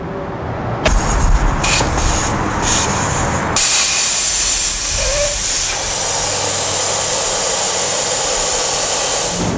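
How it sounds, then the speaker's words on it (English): Air rushing out of a tire through its valve as it is deflated before a sealant treatment, a loud, steady hiss that starts abruptly, briefly shifts tone, then holds strong and continuous to the end. "We've now let all the air out of this tire we're going to treat."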